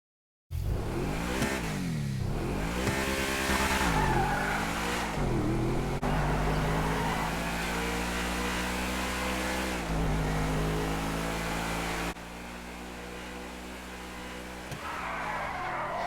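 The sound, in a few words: Obey 9F all-wheel drive sports car driving in GTA 5 video game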